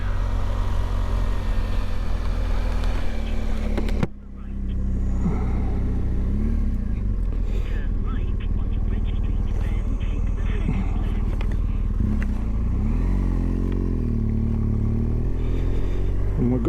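Motorcycle pulling away from a car park onto a road, engine rumbling steadily up close after a brief clunk, with revs rising and falling as the bike moves off.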